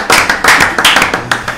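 An audience at a radio broadcast claps in a brief steady burst. Many hands smack at a fast, even rate, loud and close, with no voices over it.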